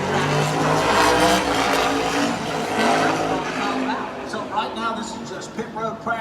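NASCAR race cars run during pit road practice, engines revving and droning at fairly close range with a rising, shifting tone that thins out toward the end, while a commentator talks over it.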